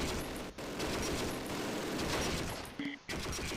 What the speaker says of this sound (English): there are MGs up here somewhere